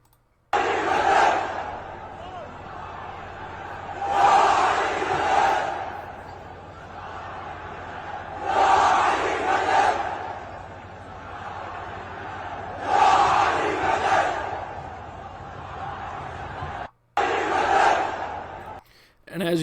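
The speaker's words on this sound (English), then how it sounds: "Hundreds of thousands of Yemenis march in Sana'a, Ansar Allah-controlled Yemen, late at night demanding revenge for the Israeli assassinated government figures." Hundreds of thousands of Yemenis march through Sana'a late at night, a vast crowd chanting in loud rhythmic waves that swell and fade every few seconds, echoing across the city in repeated bursts.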